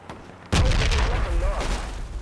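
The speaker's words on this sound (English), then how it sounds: "Someone's fucking shooting at me." A loud gunshot from the Project Reality military shooter bursts in abruptly after near-silence, followed by a rolling boom and lingering echo, with faint voice tones underneath.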